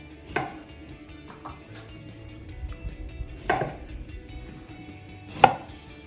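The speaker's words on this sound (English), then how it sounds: "next step is grabbing your lime, cutting it down the middle. You're gonna do that to all these limes." A knife cuts limes in half for homemade ceviche, giving a few sharp, separate chops on a cutting board spaced seconds apart over a quiet background, close and with no voices.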